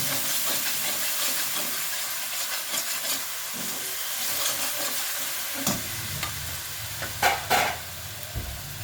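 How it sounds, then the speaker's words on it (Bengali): Grated onion with sugar frying lightly in a pan for a prawn curry, a soft steady sizzle with scattered scraping stir strokes and a few sharper clinks near the end, no talking. "তো এটা এখন একটু ভেজে নেবো, হালকা ভেজে নেব"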